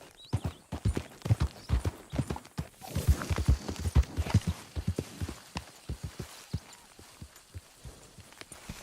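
Horse hooves clip-clop steadily on the ground in the Western game Red Dead Redemption 2, a close and loud rhythmic trotting that eases slightly toward the end.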